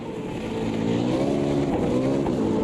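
V8 Supercar engines racing in a video game, a steady loud engine drone with layered harmonic whine, several cars roaring together at sustained high revs without a break.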